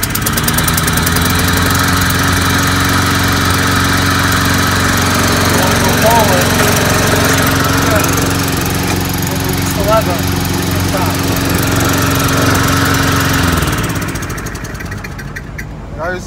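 Loud lawn mower engine running close by, a steady droning roar with a rough low rumble that holds for most of the clip and then winds down near the end, with people talking faintly over it.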